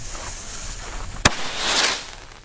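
A Panda Defender firework tube launches a shell with one sharp, loud bang, followed by a rising hiss and crackle from the shell high up, over an outdoor background rumble.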